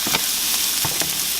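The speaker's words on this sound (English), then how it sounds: "we're going to saute these till they're just right before soft" Onions, bell peppers and jalapenos sauté in a hot pan, a loud continuous close sizzle with brief stirring scrapes and crackles, no talking.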